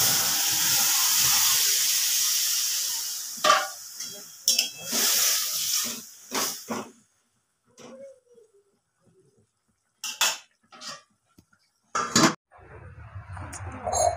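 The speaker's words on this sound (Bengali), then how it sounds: "এবারে তরকারি দিয়ে দেবো ঢেলে।" Vegetable curry of banana stem and pumpkin stalks hits hot oil in a wok with a loud, steady hiss for a few seconds, followed by scattered utensil clatter while a person talks.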